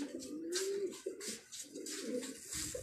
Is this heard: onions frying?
no